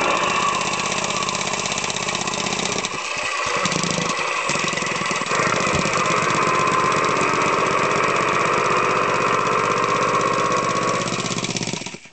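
Triumph Speed Twin motorcycle engine sound played from a small novelty USB hub: a steady, continuous idle-like rumble with a brief dip and revving change early on, loud and thin-toned, running alone until cutting off at the end.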